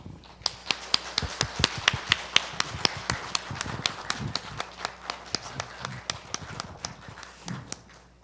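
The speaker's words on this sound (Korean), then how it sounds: "우리 큰 박수로 우리 환영해 주시면 감사하겠습니다" A church congregation claps to welcome a speaker, sharp distinct claps in a steady even rhythm, like synchronized clapping, over a low background hum.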